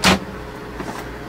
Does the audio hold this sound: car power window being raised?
yes